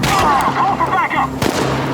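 Gunfire in the video game Chernobylite, a sharp burst of shots cutting through at mid-clip over steady game ambience, with a shouted voice speaking just before.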